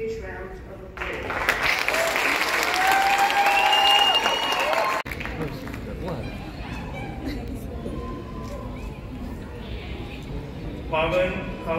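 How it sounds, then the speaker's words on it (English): An audience at the Charles Sturt University 2022 graduation ceremony applauds the new graduates: a broad wash of crowd clapping that swells and then eases, with voices and other sounds mixed in. "please can I ask everyone to give our new graduates a huge round of applause"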